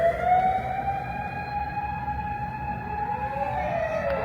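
A police siren wails steadily along a busy street in Shinjuku, Tokyo, loud and sustained for the whole stretch over a low rumble of traffic, with no one talking.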